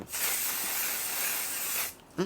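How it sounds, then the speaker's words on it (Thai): Sunscreen spray hisses from a can in one continuous close burst of about two seconds, with a brief soft noise just after it stops. "ซื้อสเปรย์ฉีดกันแดดมาฉีดเลย"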